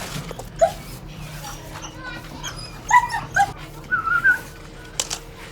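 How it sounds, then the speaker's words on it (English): Dogs whimper and yip in short, scattered whines and squeals, fairly faint and a little distant, with soft background noise. "Sorry about the dogs in the background,"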